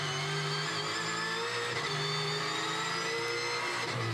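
Touring race cars roar past the start-finish line during the 2020 Townsville Tin Tops race, with a steady, loud blend of several engines droning and shifting pitch as they pass.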